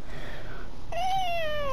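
A pet cat gives one drawn-out, rising-then-falling meow close by in the second half, following a quiet stretch of faint room noise, with no talking.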